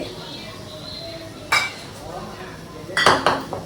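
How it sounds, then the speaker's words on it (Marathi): A utensil mixes oil into eggless chocolate fudge cake batter in a bowl, with a few brief clinks and scrapes against the bowl spread across a quiet kitchen background. "तर हे सगळं मी मिक्सअप करणार. आधी मी छानपैकी तेल टाकणार ह्याच्यामध्ये"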